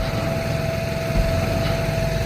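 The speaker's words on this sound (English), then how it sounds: "Probably gonna drive off with it now, or drive out from under it. Four-wheel drive turbo diesel." Four-wheel-drive turbo diesel engine running steadily at low speed while the vehicle pulls out from under a newly delivered garage building, a constant droning rumble with a faint high whine, close by and with no talk.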